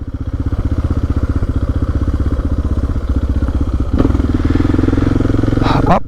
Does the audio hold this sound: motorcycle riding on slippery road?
yes